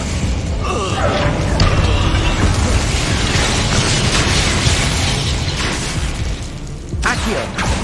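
Expulso explosion spell in the Hogwarts Legacy game, loud dense combat noise with bursts and booms layered over continuous mechanical rumble, a sharper hit near the end, with voices mixed in.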